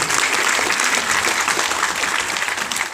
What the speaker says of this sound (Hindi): देख एक बार तालियां बजाइए यार गांव वाले से